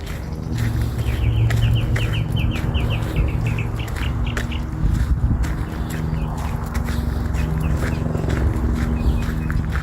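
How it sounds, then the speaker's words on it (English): Birds chirp and tweet in rapid bursts along an outdoor walking trail, with a rooster and clucking fowl mixed in, steady and moderately close throughout. "guys hear the birds?"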